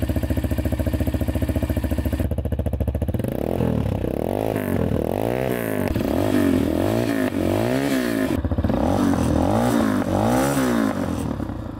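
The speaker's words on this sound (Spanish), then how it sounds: "aprovechando que tenemos la motocicleta encendida, pues vamos a ver qué tal suena" A Vento Crossmax 300 Rally motorcycle engine idles with a steady throb, then revs repeatedly in rising and falling swells, loud and close.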